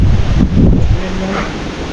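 Strong wind buffets the microphone with low rumbling gusts, and a faint wash of surf sits underneath.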